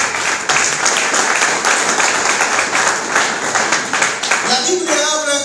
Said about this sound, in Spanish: Denle un aplauso fuerte a su Cristo